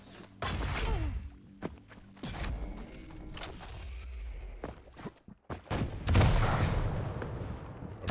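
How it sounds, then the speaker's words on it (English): Gunfire in a competitive video game match, with rapid shots, whooshes and impacts in a busy, uneven mix of bursts and louder blasts, including a heavy thump near the end. "he uses his dual-wielded gun to do a lot of damage and finishes it off right after PepCo"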